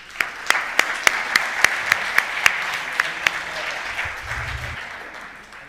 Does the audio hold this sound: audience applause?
yes